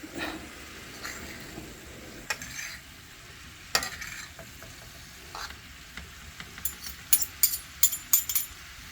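Food sizzles quietly in a pan while a utensil scrapes and stirs, with light clinks growing more frequent toward the end.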